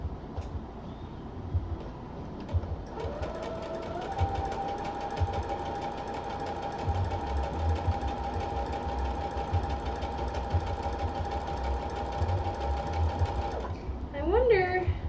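A sewing machine stitches a skirt in one long, steady run of rapid, even ticking that lasts most of the stretch, with a motor whine underneath. It stops near the end, where a voice briefly speaks.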